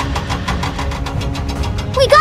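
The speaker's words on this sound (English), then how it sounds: "Here comes the fire truck!" A toy fire truck's small motor whirs loudly in a steady pulsing rhythm, with a brief high squeal near the end.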